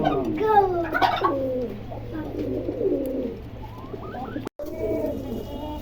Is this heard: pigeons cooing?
yes